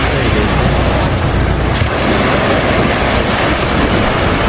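Surf washing onto a beach as a constant loud roar, mixed with heavy wind buffeting the microphone, steady throughout with no distinct breaks.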